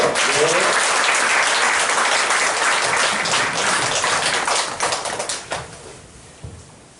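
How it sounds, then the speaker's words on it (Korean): A church congregation applauds to welcome the pastor at a Sunday service: a dense, loud wash of clapping from many hands that holds steady, then thins into scattered claps and fades out. "우리 목사님 나오실 때 뜨거운 박수로 한번 환영할까요?"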